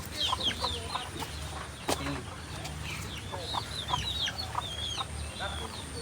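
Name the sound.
chickens clucking at their coop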